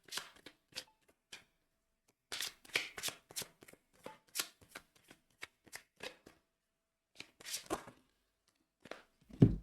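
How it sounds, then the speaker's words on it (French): Oracle cards are dealt one after another onto a table in a row, giving a sequence of close, crisp paper slaps and slides in irregular bursts, with short quiet gaps between them and a louder thump at the end. "Je mets déjà toutes les cartes de la ligne et je vous donne les messages."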